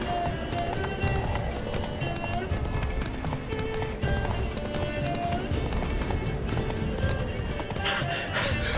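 Horse hooves clip-clop at a run through the Witcher 3 game world, a steady galloping rhythm mixed with game ambience and a whinny, with someone talking over it.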